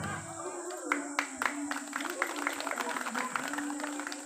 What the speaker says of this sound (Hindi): और तालियां बजाई हैं